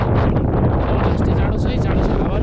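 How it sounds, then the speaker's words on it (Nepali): Cold, strong wind buffets the microphone high in the Himalayan mountains along the Mustang route toward Muktinath, making a loud, constant roaring rumble with no pause throughout. "जाडो छ, हावाले बुढाउला जस्तो छ"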